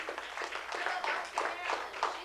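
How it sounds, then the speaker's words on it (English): A small audience applauding at a one-man-band show, a modest, steady patter of clapping, fairly quiet, with voices mixed in. "let's give him a nice round of applause"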